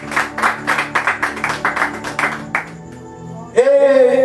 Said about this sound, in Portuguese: Pode bater uma salva de palmas para Jesus